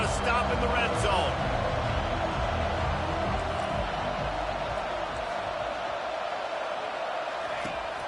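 Football stadium crowd roaring steadily in support of the home defense during a red-zone stand in a Tennessee vs Notre Dame game, a dense sustained wash of cheering under a commentator's voice.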